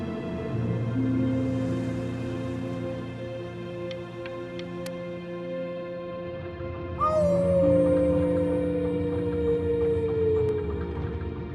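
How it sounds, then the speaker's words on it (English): A howl at the moon in the game Before Your Eyes, a long wavering cry that rises and slides downward, surging louder partway through over a soft sustained musical backdrop. "You howled at the moon, at the top of your lungs."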